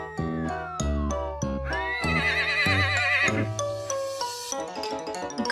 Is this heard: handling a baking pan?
no